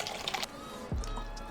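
Chilled water, 12 to 16 ounces, is poured into a clear cup for a hydration drink, a close splashing fill with a rising gurgle as the cup fills, steady and fairly quiet.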